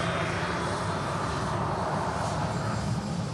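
An Airbus A330 airliner rolls along the runway with a steady, broad jet-engine roar that holds level and fairly loud throughout, heard from a distance with no voices.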